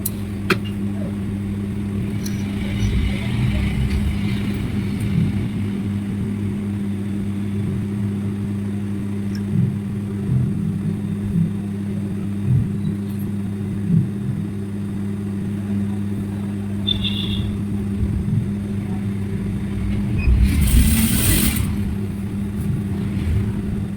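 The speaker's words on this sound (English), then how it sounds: "Then you start sewing, attaching it to the body." A sewing machine stitches Ankara fabric for baggy shorts, joining the waistband to the body in a steady, continuous motor hum that rises and dips slightly as the stitching runs for the whole stretch.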